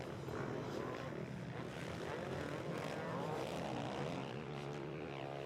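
Motocross bikes, including two Motorex Kawasakis running side by side, race at the Ernee MX1 Open GP in France, their engines merging into a loud, steady, continuous roar from start to finish.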